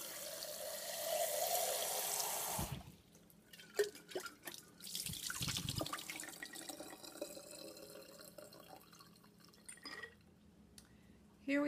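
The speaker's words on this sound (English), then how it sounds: "So I'm going to rinse them again" Tap water runs into a sink as soaked almonds are rinsed in a kitchen, a steady rush that stops, then gives way to drips, splashes and small clinks of nuts and a container, heard close and quiet.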